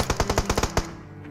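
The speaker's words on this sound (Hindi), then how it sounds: "अब देखना यहाँ पर क्या ही तगड़ा स्नाइपिंग करने वाला हूँ मैं" AWM sniper rifle in BGMI firing a rapid burst of about eight loud, evenly spaced shots, each a sharp broadband crack, before a short ringing tail fades into quiet game ambience.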